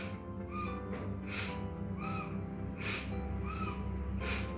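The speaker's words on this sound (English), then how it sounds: "Now I'm quickly going to demonstrate for you 5 rounds of yogic coffee, like 5 times inhale and exhale process for you." Forceful nasal breaths of yogic pranayama, sharp bursts through the nose repeating in a steady rhythm about once a second, close and loud over a constant low hum.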